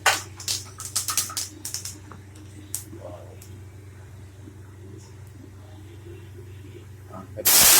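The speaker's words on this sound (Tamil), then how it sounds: "நல்ல கடுகு நல்லா பொரிஞ்சு பாருங்கள்" Mustard seeds and urad dal splutter in hot oil for a Tamil kovakkai dish: a dense flurry of sharp crackles and pops in the first few seconds thins to scattered pops over a steady low stove hum, ending in a louder rush.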